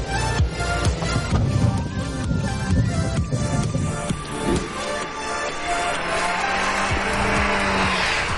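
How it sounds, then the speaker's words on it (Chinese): A Haval H6 SUV with a dual-clutch transmission accelerating hard, its engine building steadily over several seconds, while tires squeal and scrub as the vehicle pushes on, and a loud, close music bed plays throughout. "加速整体的反应速度非常快。"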